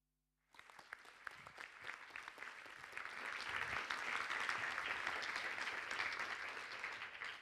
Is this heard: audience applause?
yes